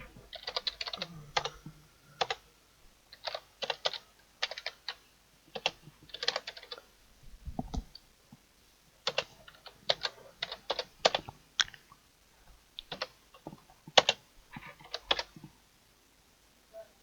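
Typing on a computer keyboard, steady bursts of close, crisp key clicks with short pauses between runs, alone without talk.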